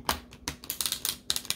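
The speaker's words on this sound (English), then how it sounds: "Spirit wants me to split the deck and shuffle it." A tarot card deck is split and shuffled by hand, giving quick close riffling clicks and soft flutters in short bursts with small gaps between them, and no voice.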